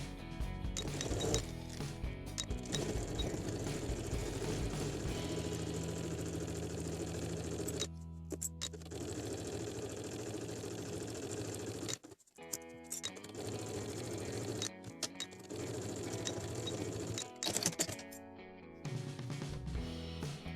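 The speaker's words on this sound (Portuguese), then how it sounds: "Agora, eu vou passar uma costura aqui nesta curvatura maior." A sewing machine runs in long continuous stitching bursts along a curved cap seam, pausing briefly a few times before resuming, loud and close with no talking.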